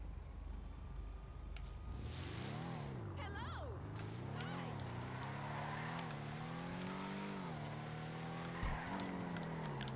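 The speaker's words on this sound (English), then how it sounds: "I can do better handbrake turns than any other car." Tires squeal loudly through repeated handbrake turns in a video game, the pitch swooping up and down with each slide over a constant engine drone, while someone talks over the top.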